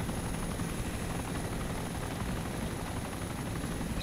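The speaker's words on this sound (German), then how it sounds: "Ich höre einen Heli." Helicopter flying in the video game DayZ Origins, a steady muffled rotor drone with a constant high whine, continuous and fairly even in loudness throughout, no talking.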